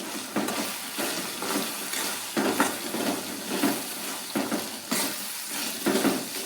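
Spices and masala for peas khichdi being stir-fried in a pan, with steady scraping stirs and sizzling in uneven, repeated bursts, close and fairly loud, with no voices.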